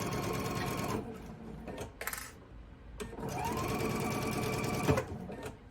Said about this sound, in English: clip that end, and we'll keep sewing all the way through